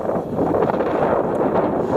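Steady wind buffets the microphone on Mam Tor at night, a continuous rushing roar with no break and no speech.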